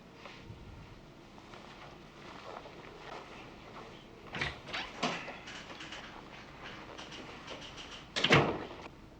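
A door is opened and shut at a crime scene: a few soft clunks and rattles midway, then a louder knock or bang near the end, over quiet room noise.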